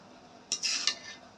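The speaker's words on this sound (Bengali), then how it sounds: "এবার মাংসগুলা দিয়ে মিশিয়ে নিব" A spoon works chicken into cooked pilau rice in a metal pot, making a short burst of clinks and scrapes against the pot that stands out over quiet background.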